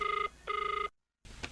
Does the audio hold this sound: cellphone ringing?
yes